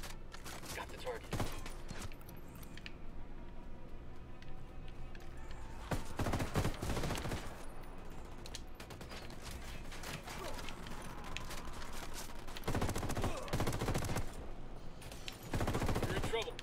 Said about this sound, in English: Dude, stop shooting at them.